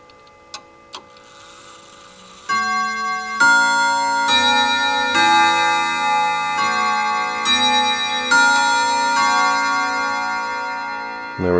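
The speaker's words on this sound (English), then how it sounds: "And there was the half-hour chime." A mechanical clock gives a few soft ticks, then sounds its half-hour chime as a melodic series of ringing tones struck at a steady pace, each note sustaining under the next, close and clear with no talking.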